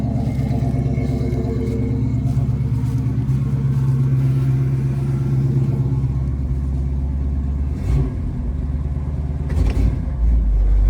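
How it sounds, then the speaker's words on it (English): A 1969 Buick Special Deluxe engine runs at a steady, loud fast idle after a cold start in freezing weather, with a continuous low rumble and a couple of brief shifts in tone near the end. "It's stuck on the fast idle."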